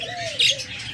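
Rainbow budgerigars chirp close by, a sliding warble overlapped by a sharp bright chirp in the middle, set against steady background chatter from other birds.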